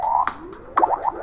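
Audio samples amplitude-modulated by a sine wave oscillator produce a warbling, pulsing tone with sliding pitch and periodic bursts, heard alone at moderate level.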